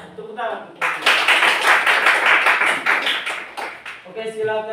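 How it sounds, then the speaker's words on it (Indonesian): Vocational high school (SMK) students in a classroom clap together for about three seconds, a dense, loud burst of many hands with a slightly rhythmic pulse, with a voice speaking just before and after. "Tepuk tangan."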